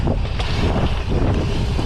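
Strong wind buffets the microphone at a bike park with big kickers and mini trails, a loud, continuous rushing roar with gusty swells and no voices.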